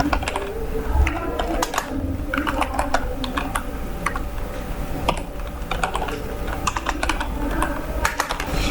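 Rapid, uneven clicks of a computer keyboard as assembly code is typed, close and distinct, with short bursts and pauses and a faint room hum underneath.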